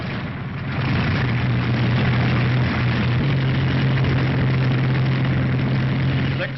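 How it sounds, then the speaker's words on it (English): A WWII fighter plane engine starts and settles into a loud, steady roar with a sustained low drone, running alone without voices for several seconds. "6 minutes after the first engine starts, the first squadron must begin to take off."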